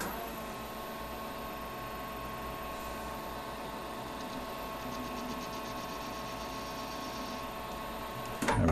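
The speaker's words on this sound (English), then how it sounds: "I'm re-chamfering the thread start because the threading insert pulls usually a little bit of a burr over in where we chamfered." Lathe cutting with a chamfer tool to clean a burr from the start of a thread on a BNC-style connector part, a steady machine hum with faint light chattering from the cut and a brief clunk at the end.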